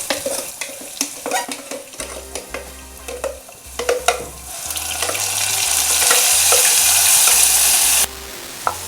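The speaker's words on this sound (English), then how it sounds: "My garlic is ready now, and I'm going to throw the spinach puree" Spinach puree tipped into garlic frying in a pan for palak paneer: scattered clinks and stirring scrapes at first, then a loud steady sizzle swells up and holds, cutting off near the end.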